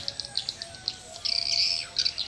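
Swiftlets (burung walet) give a run of short, high chirps, sparse and separate at first, then a denser, louder burst of twittering in the middle before a few more calls; fairly close, with no voices.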